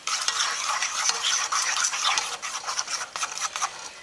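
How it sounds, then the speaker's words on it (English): Ten cracked eggs are whisked in a bowl with a utensil for crab and shrimp noodle soup, a brisk close scraping and clicking that runs steadily with no voices. "after I crack the 10 eggs, I'm going to stir it up"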